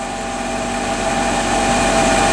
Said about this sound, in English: I'm going to turn the car back on.